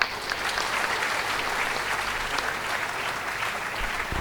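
Dense, steady applause from a crowd at an opening ceremony for Mahale saheb continues without a break.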